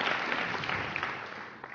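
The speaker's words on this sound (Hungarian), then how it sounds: "Szóljon a taps Ildikónak, gratulálunk most neki." Audience at a Hungarian verse-recitation semifinal applauds a contestant, a dense, even round of clapping that fills the room and slowly tapers off.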